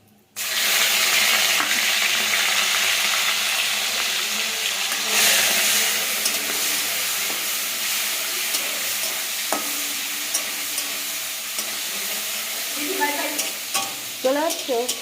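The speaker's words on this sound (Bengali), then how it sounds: "এবার চিংড়ি মাছটা দেব।" Prawns hit hot oil in a pan with bay leaf and sizzle loudly, then keep frying with a steady hiss while a spoon stirs and scrapes now and then near the end.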